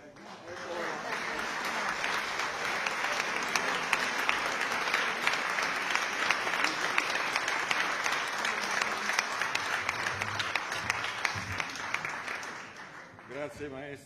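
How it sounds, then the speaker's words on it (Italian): The audience at a choir concert of popular Abruzzese songs breaks into sustained applause, a dense wash of clapping that swells, holds steady for many seconds, then thins out, with a voice starting up near the end. "una parte degli applausi vanno anche alla signora Maria Luisa, ovviamente, per le parole."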